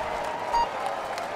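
Crowd applause rings out at the start ramp of the Tour de France grand départ in Utrecht, as heard in a cycling video game: a short, steady wash of clapping and cheering at moderate volume.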